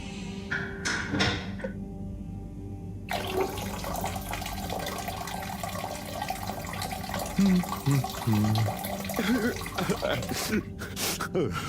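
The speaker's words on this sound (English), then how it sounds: "Sounds like the shower is playing up." Running water and plumbing noises from a faulty shower in the Harold Halibut video game fill the space as a steady hiss, mixed with clunks and gurgles, while a voice talks over it.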